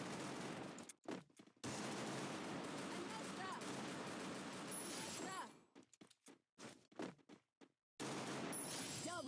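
Gunfire in the shooting video game Clash Squad, dense rapid bursts of automatic fire filling much of the stretch, broken by abrupt silent gaps and short stuttering shots, with a voice talking over it.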